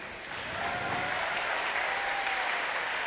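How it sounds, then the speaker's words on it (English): A gym crowd at a high school basketball game applauds a player's 1,000th career point, sustained clapping that swells after a quieter start and holds steady, slightly distant. "please join us in a round of applause for Noah Dumas on his outstanding accomplishment"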